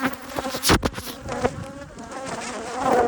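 Honey bees from a swarmed hive buzz loudly and close around the camera, with a dense drone of wings and sharp taps as individual bees strike the lens.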